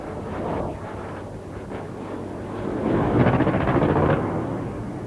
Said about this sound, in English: The noise of their gunfire reaching us several seconds after they roared away just below the speed of sound